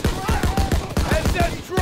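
Rapid machine-gun fire in Call of Duty: WWII, a fast, even string of roughly a dozen loud close shots in under two seconds over battle noise and shouting.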